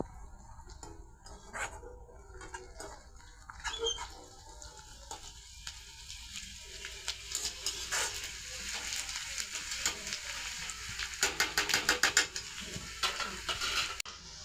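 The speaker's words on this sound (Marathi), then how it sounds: "आता आपण हे चांगलं परतून घेऊया." Curry leaves and green chili sautéing in oil in a pan with onion, a soft close sizzle broken by scraping and stirring clatter from a spatula, with louder rapid spatters near the end.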